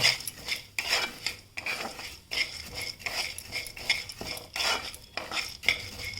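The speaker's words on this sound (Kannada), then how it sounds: "ಇವಾಗ ಉದ್ದಿನಬೇಳೆ ಹಾಕ್ಕೊಳ್ತೀನಿ ಆಮೇಲೆ ಧನ್ಯ ಹಾಕ್ಕೊಳ್ತೀನಿ ನೋಡಿ ಇದು ಕೆಂಪಾಗೋ ಥರ ನಾನು ಹುರಿತೀನಿ ಇದನ್ನು" Urad dal and coriander seeds being roasted in a pan for bitter gourd vangi bath, with a steady run of scraping, stirring strokes and light clinks of a utensil against the pan, close and fairly loud, with no voices.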